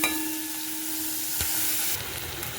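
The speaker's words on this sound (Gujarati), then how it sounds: "હવે તેમાં હું મરચાં નાખું," Green chillies drop into a spoonful of hot oil with cumin and asafoetida, setting off a close, steady sizzle with a sharp crackle partway through and a brighter spatter toward the end.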